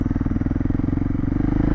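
A dual sport motorcycle fitted with a DG RST exhaust idles close by, giving a steady, rapid thumping putter with even, regular pulses and no talking.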